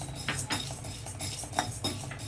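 Cashews being stirred and roasted in ghee in a kadai, the spoon scraping and clinking against the metal pan in repeated near strokes over a low frying sizzle.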